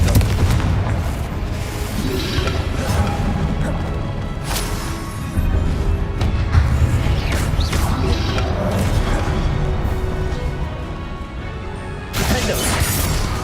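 Confringo spell explosions in the video game Hogwarts Legacy come as repeated heavy booms and crashes. They sit in a dense, loud battle mix with spell effects and a voice calling out.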